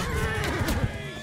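A horse whinnies in Mount and Blade Bannerlord, a wavering neigh in the midrange rising and falling over about a second, set against steady low battle rumble.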